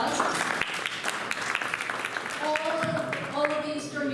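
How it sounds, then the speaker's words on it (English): Audience at a gala applauding: steady, crowded clapping throughout, with a voice briefly audible toward the end. "And that deserves applause."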